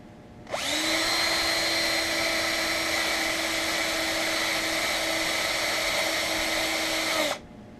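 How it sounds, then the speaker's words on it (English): An electric drill bores into a diecast Hot Wheels Chevy stepside truck, a loud steady whine that starts abruptly, holds about seven seconds, then stops. "So I'm gonna do the first drill, and then you can use the bigger bit to get the rest of the."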